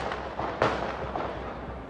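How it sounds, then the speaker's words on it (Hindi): Gunshots ring out during a street attack in Vienna: three sharp, loud cracks spaced unevenly over two seconds, each trailing into a brief echoing decay against constant low background noise. "गोलियों की आवाज़ आ रही है और लोग बदहवास जान बचाने के लिए भाग रहे हैं।"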